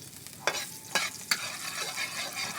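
Garlic fries in a little oil with a gentle continuous sizzle, punctuated by three quick scraping strokes of a spoon or spatula against the pan.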